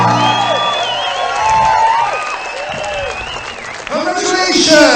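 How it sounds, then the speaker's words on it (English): Spectators at a world dragon boat championship in Hungary cheer and whoop in a mixed, bustling roar, with music and loud announcer-style talking layered over the crowd noise. "Listen to the crowd."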